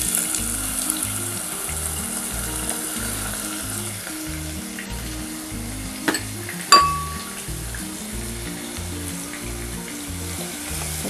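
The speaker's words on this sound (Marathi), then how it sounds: "आता एक मोठा कांदा मी बारीक चिरून घेतलेला आहे, तो आपण घालूया." Finely chopped onion sizzling in hot oil for a spicy Maharashtrian chicken rassa: a loud, even crackling hiss throughout, close by, broken by a couple of sharp metal clinks from a spoon against the pan.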